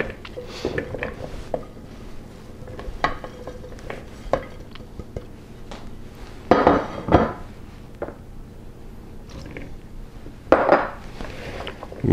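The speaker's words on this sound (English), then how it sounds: "So now I'm just going to take a bowl, put everything in here" Giardiniera pickled vegetables tipped into a bowl and stirred, with a run of clinks and scraping knocks against the dish at uneven intervals, a few sharper clatters standing out, close and moderately loud with no talking.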